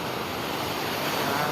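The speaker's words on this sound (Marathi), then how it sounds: "खतरनाक पुराचं पाणी बघू शकता" Flood water of the Bhima river during a June flood, a continuous broadband rushing roar with no distinct events, steady and moderately loud throughout.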